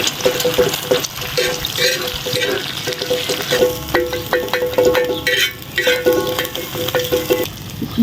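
Beaten eggs sizzle in a hot pan as they are scrambled for chicken pasta, with a soft frying hiss broken by repeated scraping and stirring strokes of a spatula, close and steady throughout.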